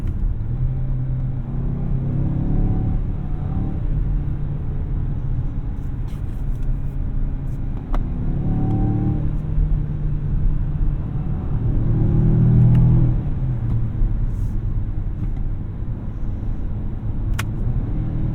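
A 2024 Mazda CX-5 Turbo engine pulls hard toward the red line, a steady, loud rumble that swells and drops slightly as it climbs through gears, heard from inside the cabin with no talking.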